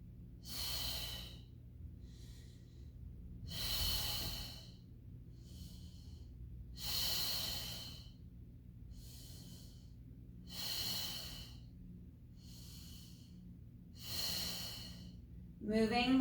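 Slow, deep breaths during a Pilates mat exercise, heard as long airy inhales and exhales about every three seconds. They are close and steady over a quiet room hum.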